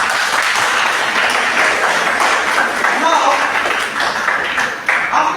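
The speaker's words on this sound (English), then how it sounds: "a big round of applause for yourself" An audience applauds steadily at an event at the Rajiv Gandhi Institute of Chest Diseases, a dense wash of clapping that carries on under a voice speaking over it.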